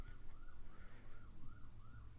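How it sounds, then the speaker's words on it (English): Emergency vehicle siren wailing in steady repeated rising and falling sweeps, moderately distant and passing by outside, with no talking. "Just wait for these sirens."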